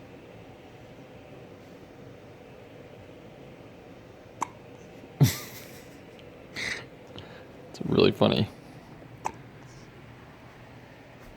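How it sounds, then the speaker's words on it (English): A baby's hiccups, a few short sharp catches spaced a second or more apart, close but soft against a quiet room, with someone speaking briefly. "Somebody has the hiccups."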